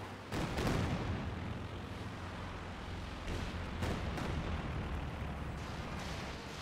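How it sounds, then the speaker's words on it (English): Katyusha rocket artillery in Company of Heroes 2 pounding a bunker in a 4v4 battle, a dense continuous roar of overlapping launches and blasts, loud and close. "We have Katyusha fire coming in against the heel bunker"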